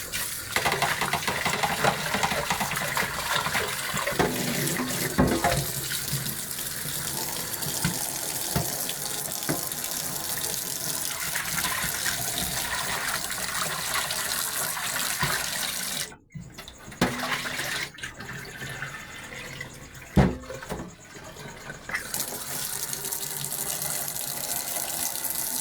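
Tap water pours steadily into a cooking pot as a sinigang with shrimp and fish is started, a loud continuous gushing rush that breaks off briefly twice near the end before resuming.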